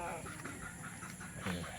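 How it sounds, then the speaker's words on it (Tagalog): A goose among free-range poultry gives short, hoarse calls close by, blending with clucking fowl against steady farmyard background noise, with a voice faintly present. "Ang gansa."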